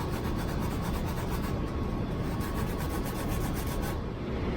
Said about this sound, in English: Next, you'll use the nail scrub to brush the tips of all of your fingers.